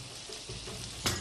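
Blanched shrimp stir-frying in a wok with oil, scallion and ginger, a steady hiss of sizzling with a sudden louder burst near the end as cooking wine hits the hot pan, close up.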